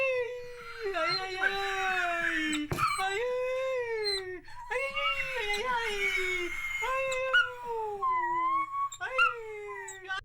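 A dog on the road in Bolivia and Peru howls in long, wavering, song-like wails, its voice rising and falling through several drawn-out phrases. A low hum runs underneath, and a sharp click sounds partway through.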